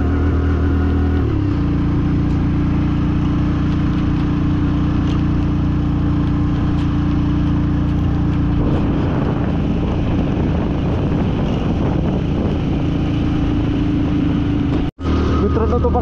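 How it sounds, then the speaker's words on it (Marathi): Hero Passion Pro motorcycle engine labouring up the Zojila Pass on a ride from Baramati to Ladakh, a steady loud drone with low throbbing running throughout and a brief dropout near the end. "डुगू डुगू डुगू डुगू गाडी चालली"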